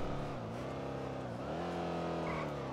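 A Tesla Cybertruck drives in the GTA video game, a steady engine drone with shifting harmonic pitch as it accelerates and eases, heard close and continuous throughout.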